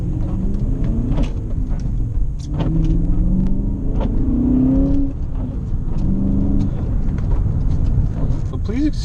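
A BMW E39 M5 engine rumbles steadily while driving in the rain, a continuous low drone that rises and falls with revs, overlaid by scattered clicks and wiper thumps inside the cabin.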